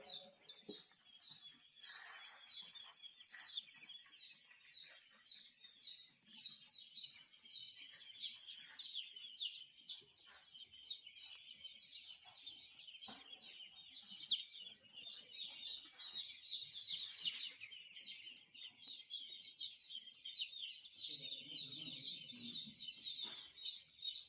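Dense chorus of chirping and clucking from many chickens on a poultry farm, steady and continuous throughout, with a few flapping wings and scattered calls rising above the din.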